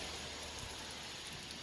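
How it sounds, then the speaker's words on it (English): A steady hiss of rain falls in cold winter weather, faint and even throughout, with no voices. "now it's 40 and it is raining"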